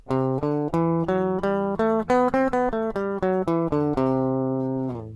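A bright synth-like tone plays a quick run of steady notes rising and falling, each note clipped short, ending on a held note.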